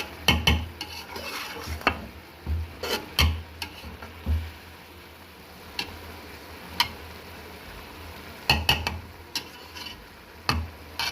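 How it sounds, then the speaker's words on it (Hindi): A spoon stirs rice into sweet zarda mixture in a cooking pot, giving repeated sharp metallic scrapes and knocks at an irregular pace over a soft background hiss. "और इसको अच्छी तरह मिक्स कर देंगे।"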